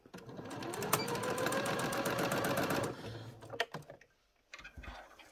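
A domestic sewing machine stitches a pleated tartan doll skirt, its needle whirring in a fast, steady run for about three seconds before stopping, followed by a few close handling clicks and rustles.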